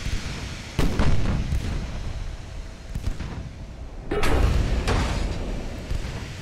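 Heavy battleship naval guns boom in the naval warfare game Ultimate Admiral: Dreadnoughts, with 12-inch, 7-inch, 3-inch and 2-inch batteries. Two loud, deep blasts land about three seconds apart, each rolling on into a long rumbling tail.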